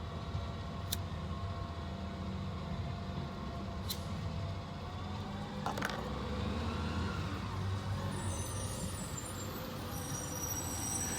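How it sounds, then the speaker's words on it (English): A garbage truck drives past outside, a steady low engine rumble close by with a few sharp air-brake hisses. "there's a garbage truck going by right now"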